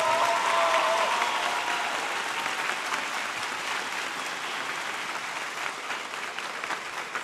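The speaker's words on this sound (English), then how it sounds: "let's give one more big round of applause for the class of 2026" A large audience applauds at the Class of 2026 graduation ceremony for UA Maker. The clapping is dense and continuous for several seconds, loudest at the start and easing slightly, with no talk.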